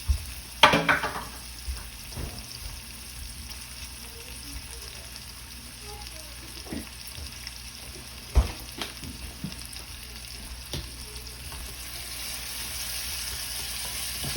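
Scallion whites frying in a hot pan give a soft, steady sizzle. Occasional scrapes and taps of a utensil against the pan break through at scattered moments.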